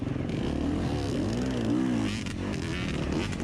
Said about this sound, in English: We're communicating with our rev limiters.